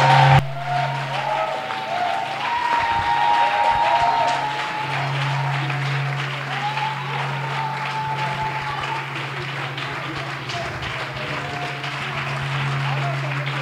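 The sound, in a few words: congregation applauding the Lord in church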